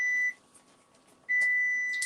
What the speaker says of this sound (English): All right, so that's my timer for my pears.